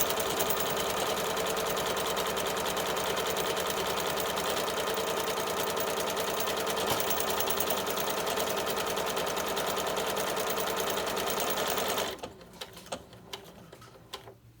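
A Tugi Premio 73 sewing machine stitches a buttonhole with a loud, steady, rapid mechanical whir that runs continuously for about twelve seconds, then stops abruptly, leaving faint clicks and handling noises.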